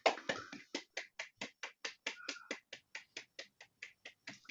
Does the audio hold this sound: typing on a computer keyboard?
no